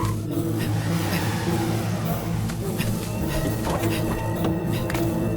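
A car drives and revs in a dramatic movie scene, a loud engine drone with rising revs and some tire noise, layered under background score and brief voices.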